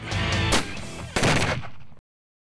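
Rifle shots striking tannerite and other explosive targets at a boomer shoot, giving two loud, close blasts about half a second apart, each with a rolling, rumbling tail, before the sound cuts off abruptly.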